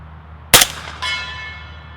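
A single suppressed subsonic 300 Blackout shot from a short-barreled rifle, a sharp muffled crack followed about half a second later by a ringing clang from a steel target roughly 100 yards off.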